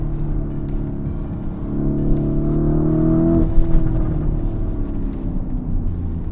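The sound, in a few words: Lamborghini Urus S twin-turbo V8 engine revving in sport mode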